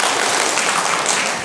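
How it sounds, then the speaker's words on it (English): Applause from the audience at a council candidates' forum, a dense, steady wash of many hands clapping throughout, fairly loud and even with no talk over it. "your applause, and I'm glad you're enthusiastic"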